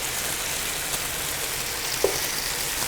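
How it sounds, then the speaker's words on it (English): Steady broadband sizzling hiss of food frying in a pan while making salad Niçoise with tuna, continuous throughout, with a single small pop near the end. "Oh yeah, sizzle, sizzle. Sizzle, sizzle."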